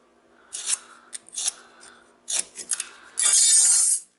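Snips cutting through a scrap transformer core to free the copper, with several short crisp metallic snips and scrapes and then a longer grinding cut at the end, close up with no talking.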